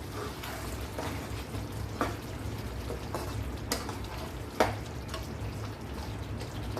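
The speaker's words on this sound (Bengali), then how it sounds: "কেওড়ার জলটা দিয়ে আমি একটু নেড়ে ব্যাস নামিয়ে নেব।" Chicken korma is stirred in a pan after kewra water is added. A soft, low bubbling simmer runs underneath, broken by occasional light spoon taps and scrapes against the pan.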